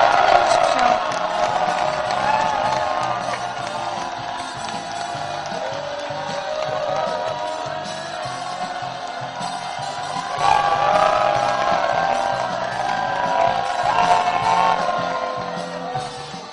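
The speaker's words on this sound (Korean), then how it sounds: "찬박수로 축하해 주십시오." An audience at a Korean reunification rally claps and cheers after a speaker is introduced, a sustained crowd roar with shouts and whoops that swells again midway.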